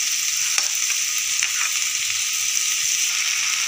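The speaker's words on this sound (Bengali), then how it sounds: "এরপর গোবিন্দভোগ চালটা দিয়ে আমি 5 মিনিট মতো ভালো করে ফ্রাই করে নেব।" Gobindobhog rice frying and being stirred in a pan, a continuous bright sizzle with light scraping taps from stirring, close and even, with no voices.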